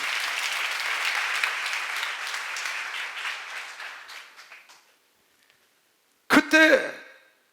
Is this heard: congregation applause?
yes